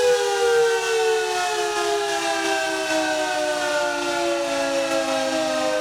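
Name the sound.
municipal siren sounding at end of election campaign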